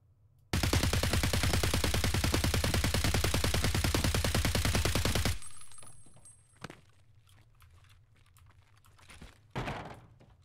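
A sustained, loud burst of rapid automatic fire from a crouched position in Escape from Tarkov, about five seconds of evenly spaced shots. Quieter clicks and thumps follow, with no talking.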